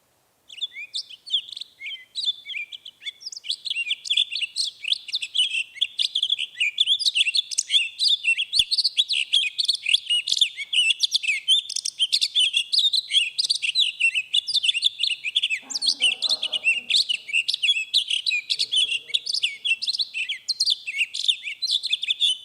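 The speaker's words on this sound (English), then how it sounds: "Listen to the song of the Townsend's solitaire." Townsend's solitaire singing a long, continuous run of bright, rapid warbling phrases, clear and fairly close, with a brief faint rustle partway through.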